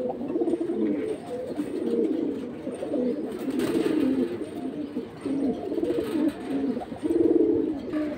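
Pigeons of the military pair breed coo repeatedly in soft, rolling phrases, close and steady throughout, with no talk over them.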